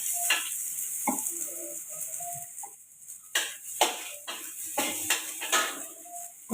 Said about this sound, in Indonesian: kita masukkan bawang merah, bawang putih. Kita tumis bareng-bareng.